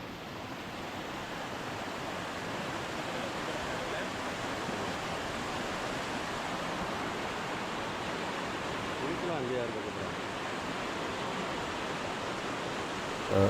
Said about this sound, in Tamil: இது பார்த்திங்கன்னா ஒரு சின்ன நீரோடை மாதிரி தான் போகுது. தண்ணி ஓரளவுக்கு நார்மலாக போயிட்டுருக்கு.